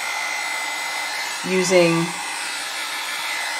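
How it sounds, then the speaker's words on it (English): A blow dryer whirs steadily and loudly throughout, drying alcohol ink, with a brief spoken word partway through. "using the blow dryer"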